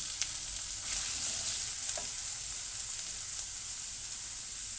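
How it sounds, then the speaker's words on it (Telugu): Chopped onions fry in hot oil with a steady, dense hiss that holds through the whole stretch, close up, with only a few faint clicks and no voices. "ఆయిల్ వేడైంది కదా ఇప్పుడు మనం ఇందులో ఉల్లిపాయలు వేసుకుందాము కొంచెం ముక్కలుగా కట్ చేసుకున్న ఉల్లిపాయలు వేయించుకుందాము"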